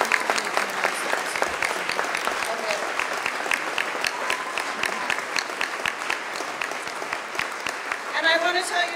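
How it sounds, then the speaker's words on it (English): A gala crowd gives sustained applause for the 2017 Victory Award honorees Bill Rosniai and Murray Cotter, a dense, even roar of clapping that carries on for several seconds, with a voice rising near the end. "please give another huge round of applause for Bill Rosniai and Murray Cotter"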